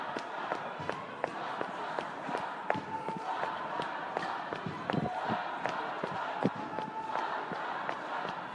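Running footsteps on a city street in a large post-election protest crowd near City Hall and Spring Street, a steady stream of quick, sharp steps under a constant roar of crowd noise and distant shouting.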